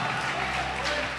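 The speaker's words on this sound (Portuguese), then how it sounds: "Você pode aplaudir o Senhor se quiser." Church congregation applauding during a Portuguese-language sermon, a brief, dense wash of clapping at steady volume with a hint of crowd murmur.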